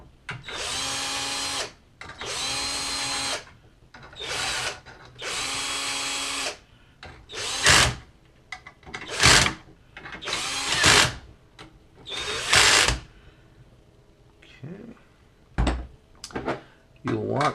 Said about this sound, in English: Once again, we can take our drill drivers for speed.